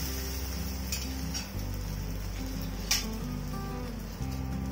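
Onion uttapam cooking on a hot griddle after being flipped, giving a soft, steady sizzle with faint ticking crackles, close by and alone with no voices.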